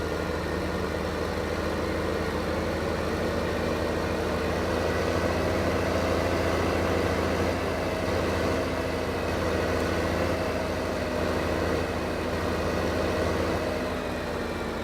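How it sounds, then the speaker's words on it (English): A brand new blue tractor in Farming Simulator 2015 runs steadily at idle, a continuous droning engine hum that stays level and close for the whole stretch with no talk over it. "My brand new blue tractor."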